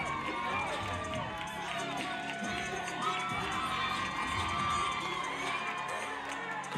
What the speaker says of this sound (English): she has the CFIT team over here cheering her on